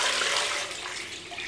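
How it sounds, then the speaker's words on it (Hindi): Water pours from a tap into a pan of cut potatoes with salt in a home kitchen, a steady broadband rush and splash lasting the whole moment, close and fairly loud, with no talking. "पानी शामिल कर देंगे"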